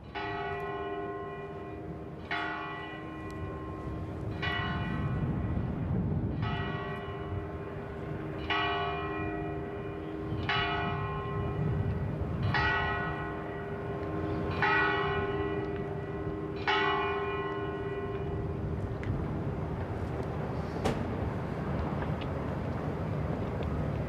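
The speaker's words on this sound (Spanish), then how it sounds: "Suenan las campanas" Church bells toll in a slow, even sequence of about eight strokes at a state memorial ceremony for coronavirus victims in Spain, ringing out over a low outdoor rumble, each tone lingering before the next.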